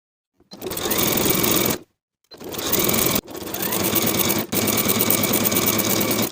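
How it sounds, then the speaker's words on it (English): A sewing machine sews the crotch curve of fleece pajamas with a 3/8 inch seam allowance, running loudly and close in several sustained bursts separated by brief pauses. "Sew the crotch curve with a 3/8 inch seam allowance"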